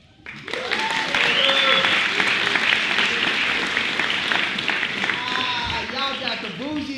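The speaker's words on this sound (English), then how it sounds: "Y'all got the bougiest claps in the world" Audience clapping at a poetry and spoken-word event, applause that rises quickly and holds as a sustained, lively wash with whoops and cheering voices mixed in.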